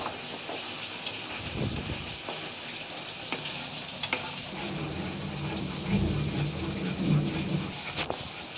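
Mango sweet mixture cooking in a pan over a medium flame, stirred steadily with a spoon; soft continuous sizzling with scraping strokes throughout, close and moderately loud, no talking.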